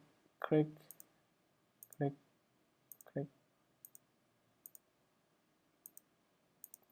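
A computer mouse clicks at an even pace while a Photoshop collage is set up, with sharp close clicks about once a second and a few soft vocal sounds near the start.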